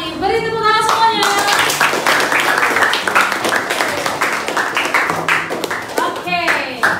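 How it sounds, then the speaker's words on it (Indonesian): A class of students clapping their hands together in a classroom, a dense, steady patter of many hands that runs throughout, with voices calling and chattering over it. "Beri tepuk tangan semuanya."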